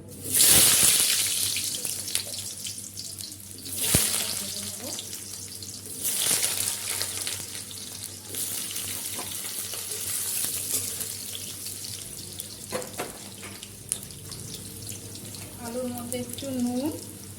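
Potatoes frying in oil for a vegetarian soybean dish, with a steady broad sizzle and occasional clinks and stirring sounds, moderately loud and close, with no speech.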